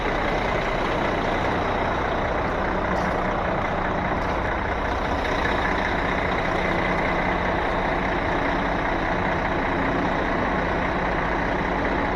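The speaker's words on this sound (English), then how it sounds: "All right, now we can pick the truck up." A heavy truck being raised for towing with a Tru Hitch wheel-lift, heard as a loud, steady mechanical engine and hydraulic drone that runs unbroken throughout.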